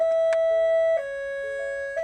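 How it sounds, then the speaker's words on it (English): A Butte County sheriff's patrol car sounds its high-low siren, a clear two-tone wail switching between a higher and a lower pitch several times in two seconds. It is loud and close, with no talk over it. "The Butte County Sheriff's Office introduced the high-low siren in their patrol cars earlier this year"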